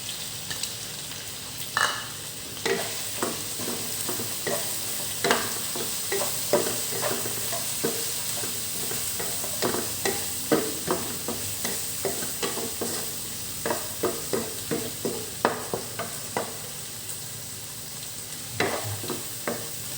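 Pork tail stir-fried with shrimp paste and kaffir lime leaves in a pan, a sizzling bed under repeated rhythmic scrapes and clacks of a spatula tossing the food, close and steady throughout.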